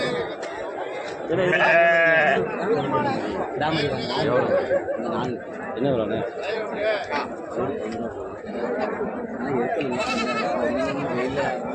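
Goats bleat at a livestock market, with a loud bleat early on and more later, heard under steady crowd chatter and close conversation.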